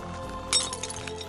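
A clay target shatters after being shot outdoors in California, a sudden bright crack and brittle crunch that stands out briefly from steady background noise.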